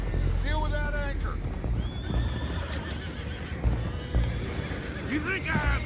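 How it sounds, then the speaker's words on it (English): Horses in Red Dead Redemption 2 whinnying several times in repeated calls, with hooves clip-clopping beneath and people talking over them. "Find out about those horses down below."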